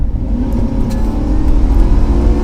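Car floored from about 40 km/h in second gear during a fuel-economy tuning test drive. The engine note swells into a loud, steady revving drone as it accelerates hard, heard from inside with no talking.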